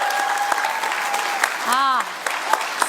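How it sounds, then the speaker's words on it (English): An audience at a live startup pitch final applauds the finalists, a steady wash of clapping under a voice speaking over the top. "Can we have one more round of applause for everybody?"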